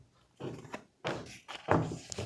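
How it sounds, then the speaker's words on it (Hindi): Construction work in the neighbouring house gives off a few irregular, muffled knocks and thuds, each a short dull thunk with quiet gaps between, heard from a moderate distance indoors. "हमारे बगल वाले घर में काम चल रहा है, वहाँ पे ठक ठक होती रहती है"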